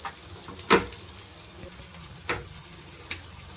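Vegetable kebabs cooking over low heat in a pan, a faint steady sizzle broken by a few sharp clicks and scrapes as they are turned, no voices.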